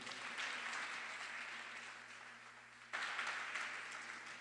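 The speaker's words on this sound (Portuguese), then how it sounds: "Dá um aplauso forte a Ele" A church congregation applauds during a sermon, a steady wash of many hands clapping at a distance, faint and continuous, swelling again near the end.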